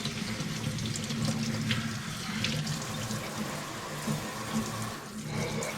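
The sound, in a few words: rinsing vegetables under running tap water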